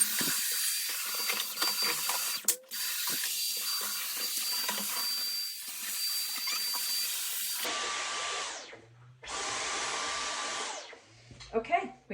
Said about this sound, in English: let me run my vacuum real quick